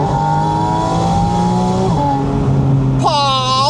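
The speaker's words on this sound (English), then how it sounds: "It's right behind your ear. So that's the main air inlet into the engine." A Porsche Spyder RS engine roars through its main air inlet just behind the occupants' ears, a loud close intake howl that rises and falls in pitch through shifts and then jumps sharply upward on a hard rev.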